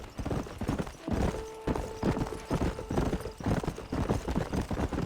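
Horse hooves clip-clop in a steady, brisk rhythm in the video game Red Dead Redemption, close and clear, with a faint tonal sound briefly in the background and no talking.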